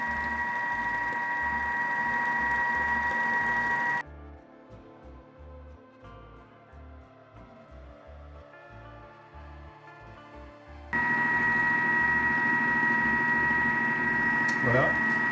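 A Thermomix whips egg whites for macaron meringue with a steady mechanical whir, which drops to a quieter hum midway and then returns at full strength.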